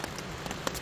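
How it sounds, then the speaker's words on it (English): Steady rain patters on a hammock camp's tarp on a very windy night, a soft, dense run of small drops tapping continuously at close range with no voices. "We started getting this like steady pitter patter of rain"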